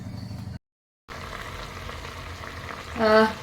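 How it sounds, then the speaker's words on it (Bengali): Apples boil in water in a pot on the stove, a soft bubbling and sizzling texture broken by a brief silent gap, ending with a short faint tonal sound. "এখানে আপেলের জলটা কিন্তু ফুটে গেছে"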